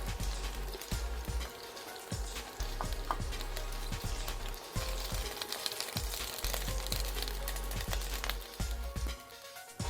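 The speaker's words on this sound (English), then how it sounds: "We shall saute this okra until the raw smell goes off" Okra sauteing in hot oil in a saucepan, a dense crackling sizzle with scattered sharp pops running steadily throughout, close and fairly loud, no voices.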